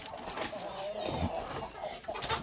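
Village chickens and roosters, including Liven breed roosters, cluck and call in short bursts at close range, mixed with faint background noise.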